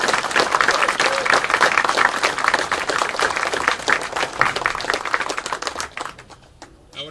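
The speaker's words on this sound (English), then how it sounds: "Let us begin with a round of applause for our graduates." Sustained applause from the audience at the 136th Windsor High School graduation ceremony, dense steady clapping filling the hall for about six seconds before thinning out at the end.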